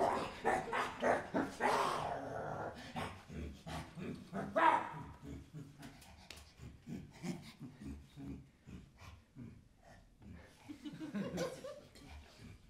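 A dog barks in several loud, close bursts early on, then gives softer huffs and snorts while people talk quietly nearby.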